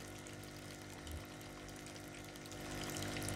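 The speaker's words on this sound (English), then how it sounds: "The left wall is lined with churning tanks of water." Churning metal water tanks line a bait shop wall in Kentucky Route Zero, giving a steady pumping, bubbling wash of water that stays constant and fairly faint, swelling slightly toward the end.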